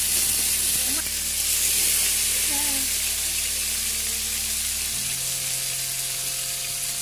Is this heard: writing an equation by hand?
no